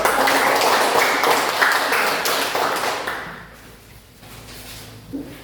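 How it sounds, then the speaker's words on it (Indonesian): A classroom group applauds after a student discussion presentation, a dense burst of clapping that is loud at first and then thins out and fades after about three seconds, leaving a quiet room with a faint tap near the end. "Berikan tepuk tangan dulu untuk"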